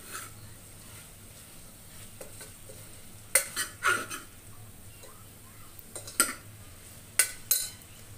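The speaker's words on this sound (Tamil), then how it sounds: "இதை மிக்ஸ் பண்ணி விட்டுடலாம்." Turmeric, garam masala and coriander powder being stirred into a cooking pan, a utensil scraping and clinking in several sharp, irregular strokes over a low background hum, with no talking.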